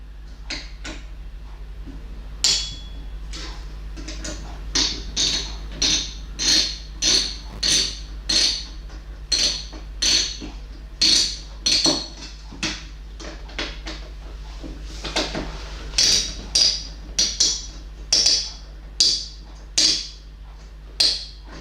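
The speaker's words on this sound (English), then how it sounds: "now the screws going in" Screws are driven in while a PC is built. A long run of short clicking, ratcheting ticks repeats at a fairly steady pace over a low electrical hum, close and moderately loud.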